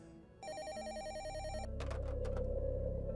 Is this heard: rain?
no